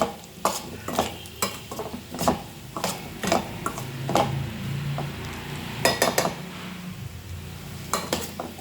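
Taro (cheppankizhangu) frying in oil with chilli powder, with repeated sharp scrapes and clinks of a spoon stirring in the pan over a low, steady sizzle, close and fairly loud.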